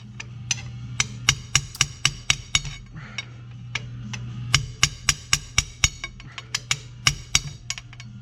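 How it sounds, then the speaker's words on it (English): Hammer tapping on the ridges of an FJ Cruiser CV axle to knock off its dust cover, during a 4.56 differential swap: a long run of sharp, close metallic taps at an uneven pace over a steady low hum. "the best way to do it was just to hammer and tap on these little ridges that are already on the CV axle"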